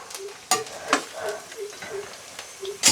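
Ground masala heats in a clay pot for fish curry, giving a faint, soft sizzle broken by a few sharp scraping clicks from stirring.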